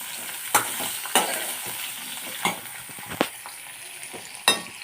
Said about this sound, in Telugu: బాగా ఎగిపోయినాయి కాబట్టి కొబ్బరికాయ ముక్కలు కూడా వేసేస్తున్నానండి.